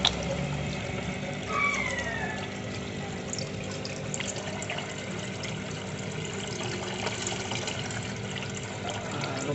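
Water pours steadily into a new aquarium tank through a small hole, a continuous trickling, splashing rush at moderate level with no breaks.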